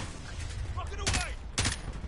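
Two sharp, loud gunshot bursts from Call of Duty: Warzone ring out about half a second apart over a steady game background, with a voice talking underneath.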